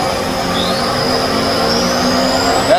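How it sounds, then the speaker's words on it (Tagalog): Steady engine drone of a fishing boat's motor running at a constant pitch, with a faint rising whine over it, loud and continuous with no talk. "Buksan tayo ng makina."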